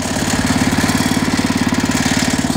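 Engine of a Cub Cadet Original garden tractor, recoil started and running after repair of a slightly frozen clutch, a loud, close, steady pulsing chug with a rapid even beat throughout, no talking.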